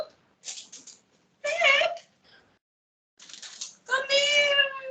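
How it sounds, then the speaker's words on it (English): A cat meows in several drawn-out, wavering cries, fairly close, with short quiet gaps between them and a long, loud final call. "Cat!"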